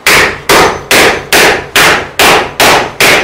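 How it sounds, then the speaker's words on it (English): A reasonable-size hammer pounds a scrap of wood during a Masonite workbench build, eight loud, evenly spaced blows about half a second apart, each a sharp close crack. "a scrap of wood and a reasonable size hammer"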